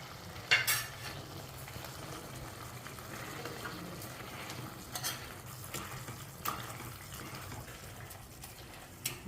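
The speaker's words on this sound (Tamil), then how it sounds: "இப்போ பரங்கிக்காய் நல்லா வெந்துருச்சு. இப்போ நம்ம இதை மசிச்சு விட போகிறோம்." Cooked red pumpkin being mashed in a pan for chapati stuffing, with soft, steady squishing and scraping sounds plus a few brief utensil clinks, close up and moderately quiet with no talking.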